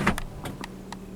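A 2000 Acura TL's electric sunroof motor tilting the roof panel, heard as a short initial whir followed by a few brief, spaced clicks and taps, fairly quiet and close in a cabin.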